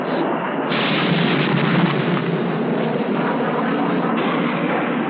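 Napalm bomb burst from a 1963 US Air Force tactical weapons test, heard as a continuous, loud, muffled roar with no distinct onset, flat and unbroken throughout.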